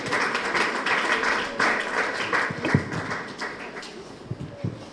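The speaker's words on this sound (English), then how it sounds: "A round of applause, please." An audience at a nursing college orientation claps in a dense burst of applause that gradually thins out into a few scattered, separate claps.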